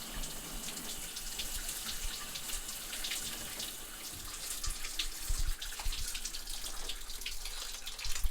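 Running water from a cold shower pours in a steady, even rush with small splashy flickers, close and moderately quiet, with no voices over it.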